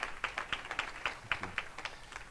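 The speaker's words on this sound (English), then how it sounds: "give them one more round of applause" A small lecture audience at a housing crisis summit in Flint gives light applause, a thin scattering of individual claps at moderate distance.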